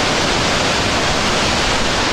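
A waterfall near Satara roars as a steady, dense wash of falling water, loud and close, filling the whole clip without a break or voices.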